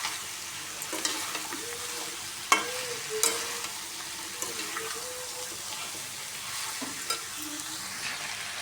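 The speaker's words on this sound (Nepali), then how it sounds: "मसलालाई अनि मैले च्याउलाई चाहिँ सँगसँगै राखेर यसले भुट्नु पर्ने हुन्छ" Mushrooms and spices fry together in a pan with a steady soft sizzle, broken by occasional scraping knocks of a stirring spoon against the pan.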